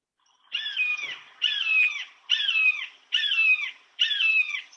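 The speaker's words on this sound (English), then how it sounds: "So the first one is the hawk" Recorded hawk call: five loud, even screeching calls repeat at a steady rhythm, each about half a second long and separated by short gaps, with no other sound.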